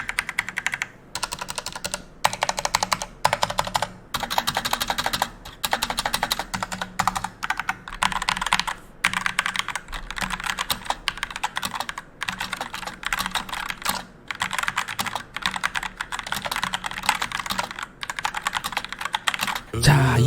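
Steady, fast clacking of keys on a SteelSeries Apex Pro mechanical keyboard, continuous for the whole stretch with brief pauses between bursts, close and clear.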